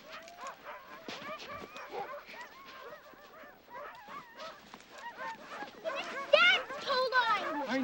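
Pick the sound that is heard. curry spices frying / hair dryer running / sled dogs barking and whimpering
sled dogs barking and whimpering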